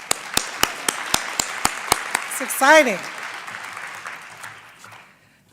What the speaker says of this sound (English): Let's clap again for that.